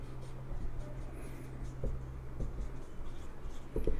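Marker or chalk on a board during a chemistry lesson, producing scratchy strokes with a few sharper taps, steady and close over a humming room background.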